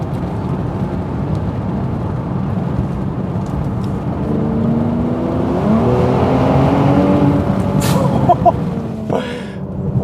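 A 2018 Mercedes-AMG GLC43's engine builds steadily under acceleration in a tunnel, its exhaust booming and echoing, ending with a couple of sharp pops.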